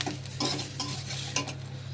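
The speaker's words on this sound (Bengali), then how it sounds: "তেঁতুলগুলো দিয়ে একটু নাড়বো," A spatula scrapes and stirs tamarind through a pan over a soft sizzle, in a few quick strokes, close by.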